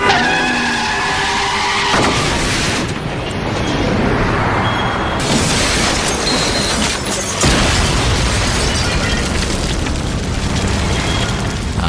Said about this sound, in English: you'll get a forward travel of the vehicle, and it'll land on its roof